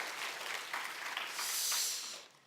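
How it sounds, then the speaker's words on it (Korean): Applause in a church for its leaders, a short burst of dense clapping from a congregation that rises briefly and then fades out. "우리 교회 큐티 나눔방 리더들과 그리고 다락방장님들에게도 큰 박수를 한번"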